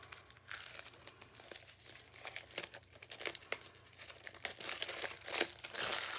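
A plastic sheet is handled around a frame, with close crinkling and crackling in irregular bursts that grow louder toward the end, and no talking.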